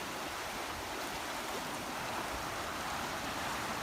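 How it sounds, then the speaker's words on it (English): A river swollen after heavy rain rushes in a dense, constant hiss of flowing water, close and unbroken, with no voices over it. "The river is completely swollen."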